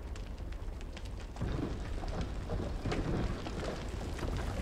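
Rain pours steadily in Little Nightmares 2, a soft wash of drops with low rumbling that swells after the first second and a half, faint and unbroken by talk.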